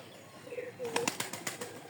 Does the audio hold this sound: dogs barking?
no